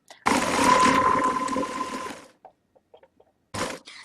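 A sewing machine stitches the zigzag first stage of a buttonhole in a steady whirring run of about two seconds, stops with a few small clicks, then starts a short second burst.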